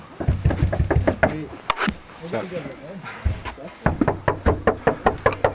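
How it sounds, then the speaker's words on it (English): Knocking on a cabin door: sharp, close, evenly spaced raps in quick runs at the start and end, with people talking in the pause between. "Why don't you knock harder?"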